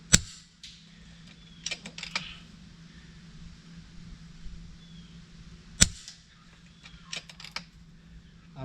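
FX Impact M3 air rifle firing .177 slugs at putty, two sharp, close shot cracks several seconds apart, each followed by a few lighter clicks and clacks over a quiet low hum, with no talking.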